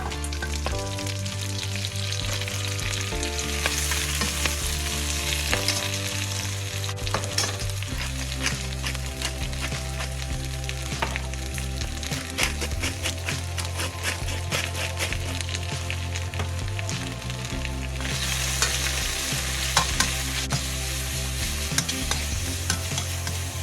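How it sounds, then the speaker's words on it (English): Spinach with toasted garlic sizzles steadily in olive oil in a pan while being stirred, a continuous close frying hiss with occasional scraping and stirring sounds, alongside background music. "add the spinach and season with salt and pepper and cook until wilted, about 2 minutes"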